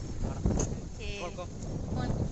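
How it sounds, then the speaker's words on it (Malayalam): Steady wind buffets the microphone in a continuous rush in Saudi Arabia, with faint indistinct voices underneath. "നല്ല കാറ്റ്"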